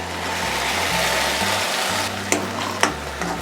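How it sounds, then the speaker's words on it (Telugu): Tomatoes frying with onions in a pan for spinach curry, a steady dense sizzle with a couple of stirring clinks near the end, close and continuous. "ఇలా టమాటా వేసుకొని ఇది పచ్చి స్మెల్ పోయేంత వరకు వేయించుకోవాలి."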